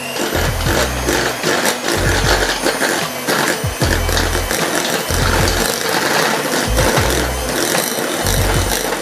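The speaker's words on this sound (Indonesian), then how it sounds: "Lalu kita masukkan cream cheese. Dan kita kocok lagi." An electric mixer whirs and rattles as it beats cream cheese into a stiffly whipped mixture for dorayaki filling, the motor surging in uneven bursts as the beaters knock against the bowl, loud and close.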